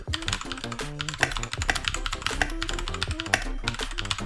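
Rapid clacky typing on a mini mechanical gaming keyboard, a dense run of sharp keystrokes, close and fairly loud, with no talking.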